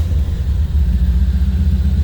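A 1929 Ford Model A sedan delivery street rod engine runs at a steady, loud idle, a deep continuous rumble that stays even and close throughout.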